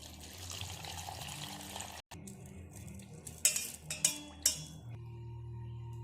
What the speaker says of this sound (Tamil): கார்ன்ஃப்ளவர் மாவை 1 கப் பவுடருக்கு 2 கப் தண்ணி ஊற்றி கரைச்சி எடுத்துக்கலாம்